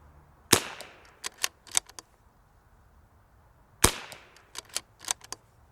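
Rimfire rifle fired with RWS ammunition, two loud, sharp shots about three seconds apart, each followed by a few fainter clicks and clatters of the action.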